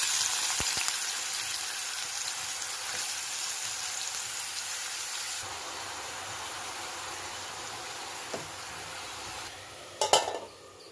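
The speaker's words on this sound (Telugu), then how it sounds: "నూనె బాగా మరిగిన తర్వాత ఉల్లిపాయ ముక్కలు వేసుకోవాలి." Onion pieces frying in oil in a pan, a steady close sizzle and crackle running throughout, with a few faint clinks and a louder scrape near the end.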